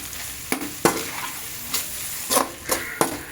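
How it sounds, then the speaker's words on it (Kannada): Goat head curry masala frying in a pan, a steady sizzle broken by several sharp scraping stirs of a spoon against the pan, close and fairly loud with no voices. "ಒಂದು 2ರಿಂದ 3 ನಿಮಿಷ ಅದು ಫ್ರೈ ಮಾಡಿದರೆ ಆಯಿತು"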